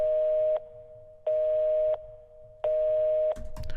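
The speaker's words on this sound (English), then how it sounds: "It's almost like an old like 90s like hung up phone type sound, or ringing dial tone, whatever." An old 1990s-style hung-up phone beep plays as three evenly spaced, loud steady tones of equal length separated by short gaps, ending in a brief noisy burst, used as a sound effect in a music track.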